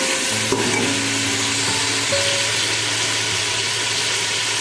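Spinach added to a pan of frying tomato masala sizzles loudly and continuously up close, with stirring and a low hum in the background and no talking.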